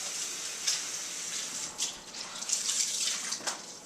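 Warm water runs steadily from a kitchen tap to wet a clean dishcloth, a continuous hissing splash with a few brief louder gushes, close by and with no one speaking.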